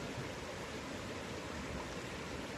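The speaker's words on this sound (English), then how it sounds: "you can walk behind a waterfall" A waterfall at Maspie Den, a steady broadband rush of falling water, soft and even without any breaks, with no voices present.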